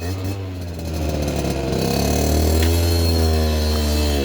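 A 50cc motorbike with a manual gearbox revs up close by as the clutch engages and it pulls away, the engine note rising steadily and staying loud throughout.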